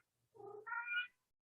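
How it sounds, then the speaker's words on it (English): A Maine Coon cat gives one close, two-part squawky meow, rising in pitch and lasting about a second in an otherwise quiet room. "We have a Maine Coon cat, and he can be really squawky sometimes"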